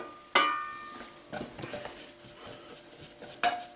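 A spoon clinks and scrapes against a pan as a flour roux for cheese sauce is stirred, with sharp metallic knocks at the start and end and softer scraping between them.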